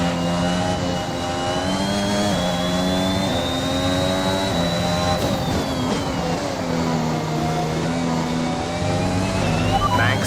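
A Formula 1 car in F1 2021 accelerates back to racing speed, its high engine whine climbing steadily and loudly through the gears for the whole stretch, with no talk.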